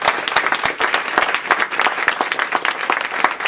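Hearty audience applause for panelists after a discussion on African ICC cases at a Washington event, loud and close with distinct individual claps in a brisk, uneven rhythm.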